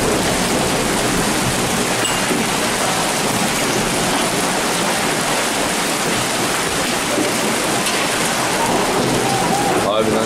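Heavy hail falling in Kocaeli, Turkey, with large hailstones striking a balcony and surfaces nearby in a dense, continuous hiss and clatter that stays loud for the whole stretch.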